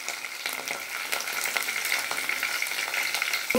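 Onion paste with chana dal and chopped onions sizzles in a pan while being stirred, a steady soft frying hiss broken by scraping, stirring strokes, close and moderately loud, with no talking.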